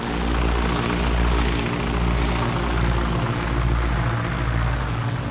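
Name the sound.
propeller aircraft engine chugging in flight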